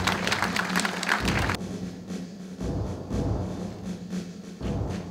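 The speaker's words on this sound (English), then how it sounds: "Could we give them another round of applause, please?" Audience applause at a 25th anniversary luncheon, a dense clapping wash that swells and dips in waves, with a louder burst at the start before settling into steady clapping.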